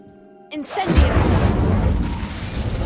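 An Incendio fire spell is cast in Hogwarts Legacy inside a dusty, cobwebbed estate: a sudden whooshing burst of flame erupts after a brief quiet, then a rumbling, crackling roar lingers loud and close.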